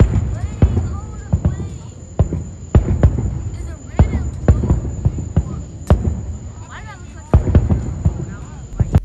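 A distant fireworks show over a town square sends repeated sharp bangs and thumps at irregular intervals over a steady background hum, with faint voices in between.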